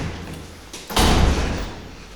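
A heavy building door in Stockholm opens with a loud, close thud and rush of air about one second in, followed by a sustained rumbling swing that slowly fades.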